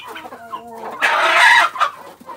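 A guinea fowl and rooster cross hen clucks and squawks among chickens on a farm, with a loud, agitated burst of flapping and cackling midway through that trails off into scattered clucks.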